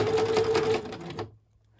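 Sewing machine stitching through fabric in a close, rapid mechanical whir with a faint tonal hum, running for about a second before stopping abruptly into near silence.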